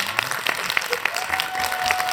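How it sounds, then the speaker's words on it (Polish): Steady applause from a church audience at a parish schola concert, a dense patter of many hands clapping at moderate level. "Brawa dla Pana Andrzeja."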